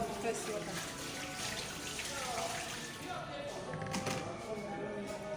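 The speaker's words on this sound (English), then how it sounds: "I now pour the first water." Water poured over vegetables in a bowl to rinse out sand, a continuous splashing, trickling flow close by with some clinks and a speaking voice partly over it.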